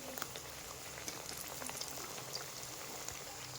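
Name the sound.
bitter gourd chops frying on low flame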